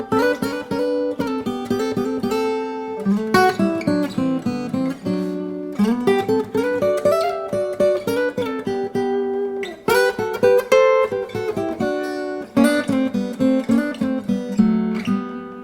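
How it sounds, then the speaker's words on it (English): Double stops on an acoustic guitar, two notes sounded together in a flowing lead melody of plucked, ringing pairs with brief pauses, close and clear with no talking. "we can get a lot of really beautiful sounds by playing two notes at the same time"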